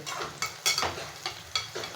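Bay leaf frying in hot oil as a tempering for vegetable pulao, a steady close sizzle broken by several sharp stirring scrapes at uneven intervals, with no talk.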